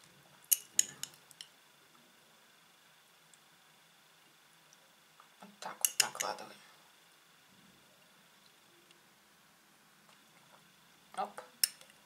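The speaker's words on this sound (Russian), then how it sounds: "Так, все это перемешиваем." Kefir dessert ingredients are mixed with utensils, giving a few short bursts of clinking and scraping separated by long quiet gaps, faint and close.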